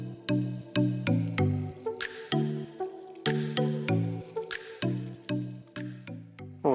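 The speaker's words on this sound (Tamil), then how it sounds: "ஓகே, ஸோ இந்த ஸ்டேஜில் நம்ம ரைஸை பிரியாணியில் ஆட் பண்ணுறோம்." Washed, drained rice tipped into a pot of Dindigul-style biryani, heard as a run of close, wet drops and soft squishes, roughly a dozen plops in an uneven rhythm with no talking.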